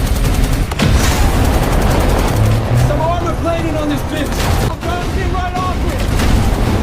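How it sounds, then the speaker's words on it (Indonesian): Dense, rapid bursts of a robot's gunfire crackle continuously and loudly, with booming impacts and a few higher electronic tones mixed in. "Si robot pun menyerang dengan tembakan yang terus dilakukan dengan bertubi-tubi."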